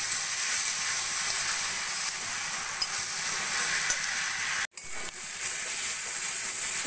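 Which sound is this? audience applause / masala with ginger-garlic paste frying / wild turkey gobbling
masala with ginger-garlic paste frying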